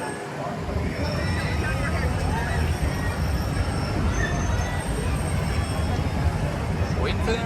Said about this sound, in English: Your next monorail is on final approach.